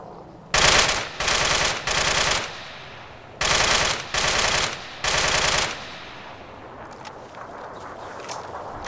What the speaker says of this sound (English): I heard a bloody AK fire.